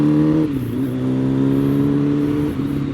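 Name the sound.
motorcycle engine warming up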